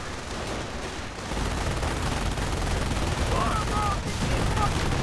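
Dense gunfire and machine-gun bursts in a WWII strategy game battle, a steady loud clatter of overlapping shots with explosions rumbling underneath and a faint voice in the mix.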